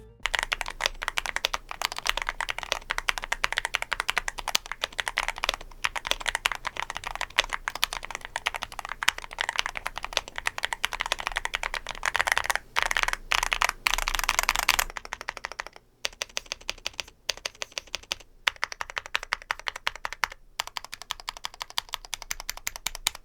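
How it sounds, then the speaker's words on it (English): Continuous typing on a Yunzii AL66 mechanical keyboard with stock linear switches, quick even keystrokes clicking close by, pausing briefly and resuming toward the end. "Basing on the stock typing sound test that we just heard"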